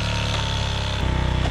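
A Minsk X250 motorcycle engine revs loud and close with a rough, buzzing two-stroke note, climbing in pitch near the end of a short burst.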